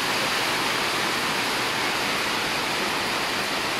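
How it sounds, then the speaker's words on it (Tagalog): Heavy rain pours down on a hilltop farm near a pig pen, making a dense, unbroken roar that stays loud and even from start to finish, with no voices. "yung lakas ng ulan dito sa taas ng bukid guys oh"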